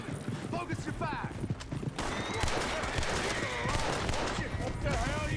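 A horse-drawn coach rolls up in Red Dead Redemption 2, hooves clip-clopping loudly and steadily over a busy game mix with gunfire bursts and voices talking throughout.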